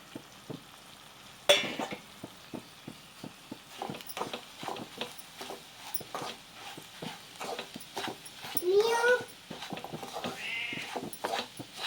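Semolina tipped into a frying pan and stirred, giving soft scraping and sizzling textures with a few louder stirring scrapes, plus bleating sheep or goats nearby in a village kitchen.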